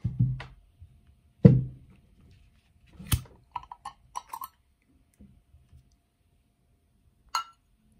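A bottle of birch juice is opened with a few separate clinks and clicks, a cap knock near the start, then light ticking taps and one sharp click near the end, all close and fairly quiet with no talking.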